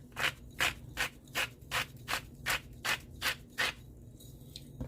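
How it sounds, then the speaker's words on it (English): Salt ground from a grinder over shredded cabbage for sauerkraut, about ten evenly spaced rasping grinds in a steady rhythm, close and clear, with no talking. "So I'm going to just grind it in there."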